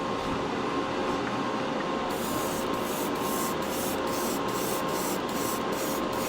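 An airbrush (Gaahleri Mobius SP) sprays primer onto a model in a continuous, close, loud hissing stream, with rhythmic pulses of airflow as the brush sweeps back and forth over the surface.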